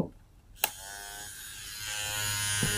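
An electric toothbrush starts up after a click and hums with a steady, strong vibrating buzz that grows slightly louder, heard close up with no talking.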